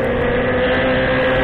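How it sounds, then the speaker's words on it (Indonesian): A big, costly Indonesian motorcycle revs hard under acceleration, its loud, steady engine roar continuous and close throughout with a strong droning tone. "tarikan motor ini benar-benar gila"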